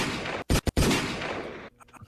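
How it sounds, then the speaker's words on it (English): A gunshots sound effect with a rapid volley of loud, sharp blasts, several cracks in close succession, then a rolling decay and trailing clatter fading near the end. "Gunshots."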